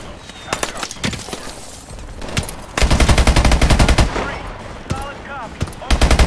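Loud, rapid automatic gunfire lays down suppressing fire in the Call of Duty: Advanced Warfare video game, coming in dense bursts mixed with single shots and distant battle noise.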